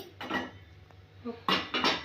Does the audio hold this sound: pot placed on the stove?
yes